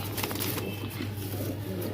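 A restless fantail pigeon at a pigeon farm coos low and steady, with brief bursts of wing flutter close by as it struggles in a handler's hands.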